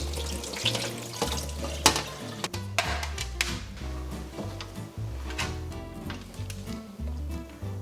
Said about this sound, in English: followed by rinsing it under running water